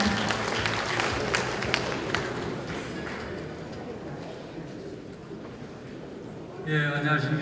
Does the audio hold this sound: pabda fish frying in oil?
no